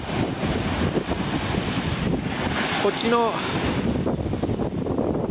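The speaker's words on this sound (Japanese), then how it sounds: "ちょっとここ最近でないぐらいの北風が吹いてて、もう台風みたいな" Strong north wind blowing hard across Malibu Beach beside a resort in Onna, Okinawa, where pumice is washing ashore; a loud, steady roar buffets the microphone throughout, with surf underneath and a brief voice partway through.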